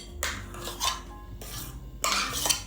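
A utensil stirs bagel dough ingredients, flour, baking powder and salt, in a bowl, giving three short bursts of scraping and clinking against the bowl with pauses between and no voices.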